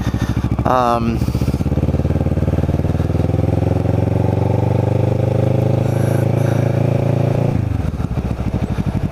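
Motorcycle ridden on a cloudy, overcast day through The Villas community, engine droning loud and steady with a rising rev early on, then the pitch drops and settles near the end.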